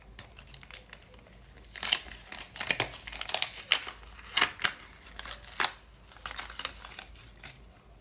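A small paper surprise packet crinkles and rustles in irregular close bursts as it is handled and opened, with quiet gaps between the louder crackles.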